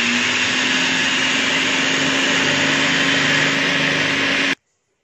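A blender whirs loudly and continuously at a steady pitch, churning thick milk contents into butter, then cuts off suddenly into silence.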